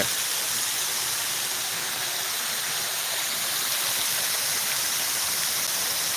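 Artificial waterfall at a church grounds pours in a steady, dense rush of falling water, close and loud, with no voices over it.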